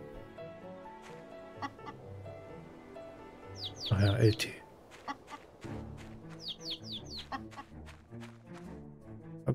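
Chickens cluck and chirp in the farming game My Time at Portia, several short calls scattered through the clip beneath someone speaking, with background game music.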